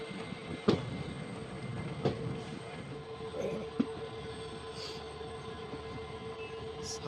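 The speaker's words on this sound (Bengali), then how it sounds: "সামনে 4টা লোকোমোটিভ একসাথে টানছে, স্লো করে দিল দেখো, পুরো থামিয়ে দিল।" Poorna Express passenger train hauled by four locomotives, heard from on board as it slows to a stop: a steady low rumble of the carriages with a few sharp clanks and knocks spaced through it.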